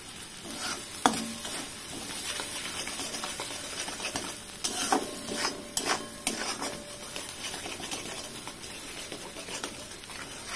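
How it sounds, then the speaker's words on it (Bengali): A paste of mashed pointed gourd, seasoned with salt, turmeric and sugar, is stirred and fried in a pan. A soft steady sizzle runs under scattered scrapes and taps from the utensil. "এটা ঘুরিয়ে ঘুরিয়ে সুন্দর করে ভেজে নেব"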